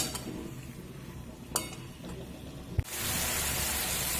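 Boiled telakucha greens stirred in a pan with a few soft scrapes and one sharp clink against the metal, then a steady hiss rising toward the end, no voices.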